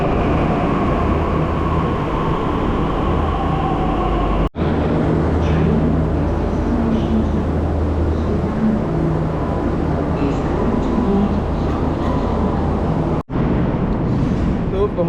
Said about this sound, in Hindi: और ये आ गई मेट्रो